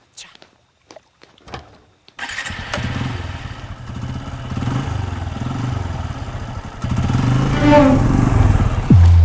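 After a few faint clicks, a motorcycle engine starts and idles with a low throbbing rumble, revving louder near the end.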